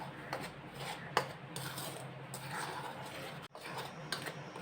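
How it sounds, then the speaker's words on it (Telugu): Soft scraping and rubbing of khajoor dough ingredients being mixed together in a bowl, with sugar powder stirred in, a steady close low rustle with a couple of light clinks against the bowl. "మొత్తం ఇలా కలుపుకొని పక్కకు పెట్టేసుకున్నాము."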